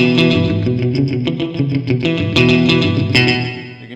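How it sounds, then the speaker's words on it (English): Distorted electric guitar notes through JHS Pedals 3 Series pedals ring out with heavy reverb, without pre-delay, and echoing delay that blur together into a washy, layered sustain. "you can hear that the delay and the reverb are sometimes fighting each other a little bit"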